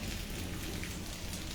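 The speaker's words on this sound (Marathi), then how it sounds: "चांगल्या दर्जाने पाऊस पडत आहे" Light drizzling rain falling steadily on surfaces around a tree-filled yard, a soft, even hiss of drops throughout with no voices.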